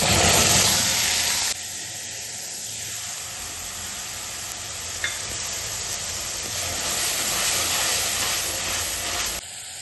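Ginger-garlic paste with onion and tomato purée sizzling in ghee for pav bhaji, a loud steady frying hiss close up, with a few faint stirring clinks and no talk.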